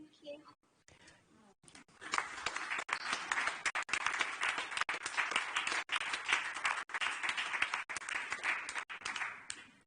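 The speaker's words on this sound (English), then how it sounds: "I don't know if you could hear the applause here in the room" Applause from an audience in a conference room, dense steady clapping sustained for several seconds after a brief spoken moment, heard from within the crowd.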